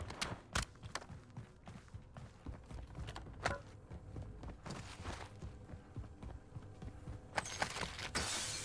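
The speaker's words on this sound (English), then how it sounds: "Switching mags." Metallic clicks and clacks of a magazine being swapped and a weapon reloaded in a battle royale video game, quiet and scattered over a low rumbling game backdrop.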